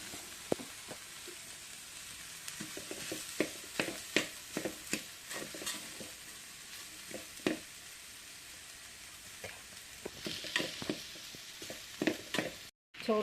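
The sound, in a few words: cooked rice being stirred into frying soya mixture in pan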